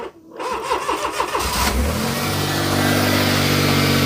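A Smart ForTwo engine cranks with a quick rhythmic starter churn for about a second, catches, and settles into a loud, steady idle hum, with no talking over it.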